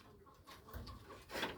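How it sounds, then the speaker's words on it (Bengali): A Padmashil pigeon in a loft gives a couple of soft, low cooing calls at close range against quiet background noise. "পদ্মাশীল কবুতর।"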